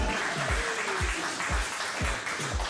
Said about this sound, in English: Let's give a cheer for the Khmer language, everybody.